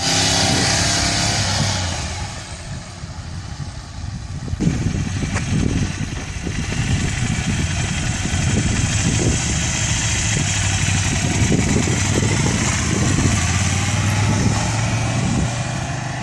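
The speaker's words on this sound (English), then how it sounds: "Just getting on that throttle a little bit as you accelerate from stop." Ducati Scrambler motorcycle accelerating from a stop during a riding lesson, its engine a continuous loud rumble that rises and holds with steady revving, heard up close without speech.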